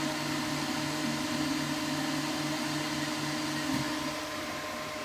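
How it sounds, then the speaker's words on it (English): A 3D printer extrudes filament after a cleared filament jam, a steady mechanical hum with constant motor tones and a faint background whir, unbroken and moderately loud throughout. "There we go, filament coming out."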